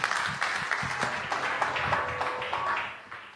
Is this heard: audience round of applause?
yes